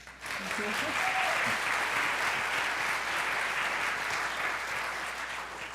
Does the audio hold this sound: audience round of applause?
yes